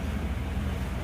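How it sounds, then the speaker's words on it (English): An electric fan runs steadily indoors, giving a continuous low whooshing hum with no breaks or changes over the short stretch. "I'm gonna turn off the fan because"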